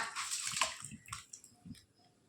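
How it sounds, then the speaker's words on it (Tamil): Soaked jeera samba rice is tipped into boiling water for egg mandi biryani, giving a splashing, bubbling gush that is loud at first, then fades into softer sloshes and drips, with no voices. "தண்ணி நல்லா கொதிக்க ஆரம்பிச்சிருச்சு."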